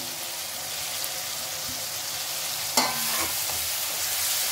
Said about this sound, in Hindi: अब इसमें मैं डाल दूंगी हरी मिर्ची